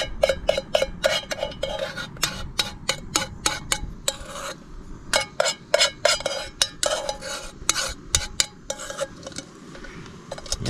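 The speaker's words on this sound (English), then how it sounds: "I kind of turn that soup in and get it all mixed in" Metal spoon repeatedly scraping and clanking against a camp pot as tomato soup is stirred into a thick, chunky backpacking goulash with hamburger, a quick irregular rhythm of close, bright clinks with no talking.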